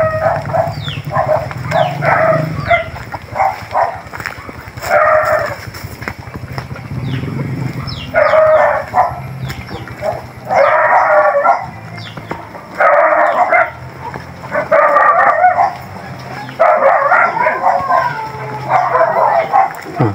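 Many dogs barking in a rural Philippine neighbourhood, repeated loud bursts of overlapping barks close by throughout, with people talking underneath.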